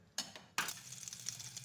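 A metal cooking pot is set down on a stove with two sharp clanks, followed by a short rattle of metal and a light clinking of utensils nearby, with no voices.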